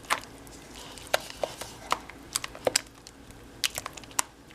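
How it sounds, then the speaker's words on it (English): Spoon scraping and tapping through sweet potato cake batter with vanilla in a bowl, a dozen or so sharp clicks at uneven intervals, close and fairly quiet. "And just give that another mix. Just mix it around in there."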